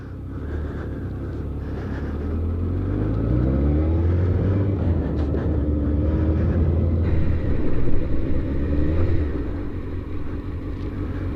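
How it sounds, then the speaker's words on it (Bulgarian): A motorcycle riding at about 35 km/h and then stopping with the rear brake only, heard as a steady engine drone with rising tones that builds, peaks near the end, then eases off as it slows. "тръгвайки с мотора, ще вдигна 35 км невисока скорост и ще спра само с задна спирачка."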